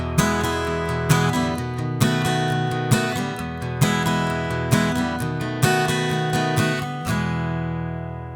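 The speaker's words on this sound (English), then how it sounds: "this cool backbeat country strumming pattern with 2 chords" Acoustic guitar strums a country backbeat pattern over two chords, bright and steady with accented strokes on a regular pulse, played alone and up close.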